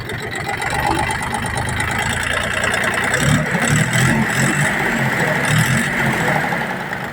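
A Jinma 264E tractor engine idles steadily and loudly, a low rumble with a faint rapid ticking from a valve, likely the third cylinder, running through it.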